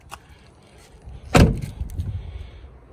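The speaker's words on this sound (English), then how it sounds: "Shut the door." A Jeep Wrangler JKU door shuts with a single solid thump, followed by a brief rattle and some faint handling noises before and after.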